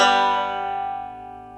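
Banjo melody notes played slowly in Don Reno style, a single bright plucked attack ringing out and decaying over about a second and a half, close and clear.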